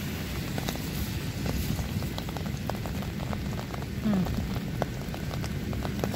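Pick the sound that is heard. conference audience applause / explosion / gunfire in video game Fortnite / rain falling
rain falling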